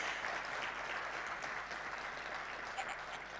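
Steady applause from a conference audience greeting a keynote speaker at a Transnet Africa Connect event, moderately distant and even throughout with a faint crowd murmur beneath.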